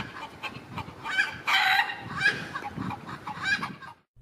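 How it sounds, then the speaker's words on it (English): Chickens call in a recording played from a presentation slide: loud, squawking clucks and crowing bursts in quick succession, close and clear, then fading to quiet at the end. "The chicken call sounds in the next slide are familiar to all of us."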